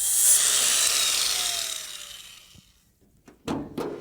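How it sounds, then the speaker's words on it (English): An angle grinder dresses down welds on a car's rocker panel, with a loud sustained abrasive grinding that winds down and fades, followed by a few short scraping touches. "be careful not to grind too much off or you'll weaken the weld"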